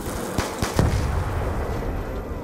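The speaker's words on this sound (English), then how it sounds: "Use your pistols." Pistol fire in Black Ops 2 Zombies: a few sharp shots in quick succession early on, loud over a dense, constant game background rumble.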